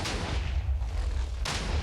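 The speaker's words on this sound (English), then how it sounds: "So we know there's an explosion right here, and right here." Minecraft TNT blasts set off with a cannoning mod: two loud, close booming explosions, a deep rumbling burst at the start and a second sharp blast about one and a half seconds later, with no talking.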